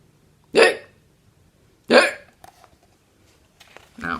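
A storyteller reading a Halloween picture book imitates a skeleton's hiccups with a voice, two loud, abrupt hic sounds spaced well apart, followed by soft speech.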